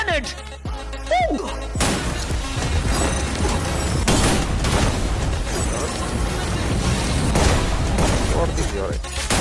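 Grenade blasts and gunfire from a Free Fire esports tournament match, heavy booming explosions and dense crackling fire layered continuously, loud and close, with an excited commentator talking over the action throughout.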